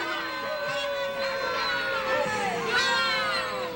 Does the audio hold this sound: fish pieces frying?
no